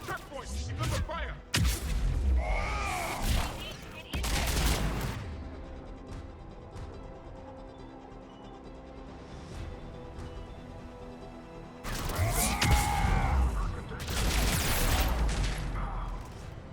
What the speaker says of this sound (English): The checkpoint! It's under fire!